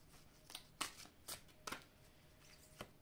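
Tarot cards being shuffled during a reading, a series of soft, close riffling flicks and taps at an uneven rhythm over a quiet background, with no talking.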